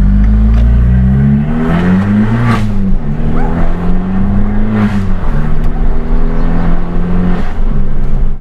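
A Fiat 500 Abarth drives with its engine loud and close throughout, the revs rising and falling through several shifts, with no voices over it.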